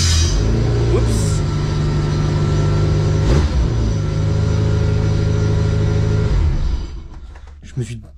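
A MINI's engine idling after being fired up with the start button, a steady mid-pitched rumble with a brief rev partway through, close and loud, then dropping away near the end with light clicks.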